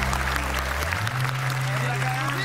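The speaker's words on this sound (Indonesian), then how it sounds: "tepuk tangan buat keluarga Andre" A studio audience at a Lebaran television show applauds steadily and continuously, while a sustained tone and voices carry on over the clapping.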